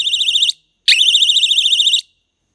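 An ADT RX7C alarm sounder siren blares in two loud warbling bursts, a short one and then a longer one after a brief gap, alone and piercing.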